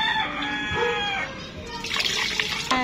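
Water pours into a crayfish container in a rooftop garden, a splashing gush in the second half, while a rooster crows loudly over the first part.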